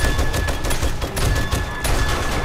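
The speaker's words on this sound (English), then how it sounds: "let the M60 do its work." An M60 machine gun in 7 Days to Die fires in close, rapid bursts of dense, loud shots with a brief gap midway, and no one speaks.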